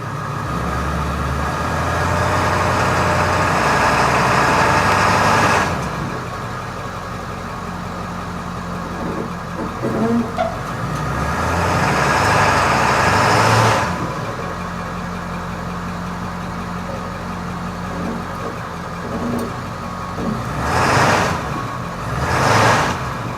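A stuck Ford 7.3 diesel van spins its tire. The engine rumbles loudly and surges in several long revving bursts, dropping back to a lower idle between pushes, with no talk.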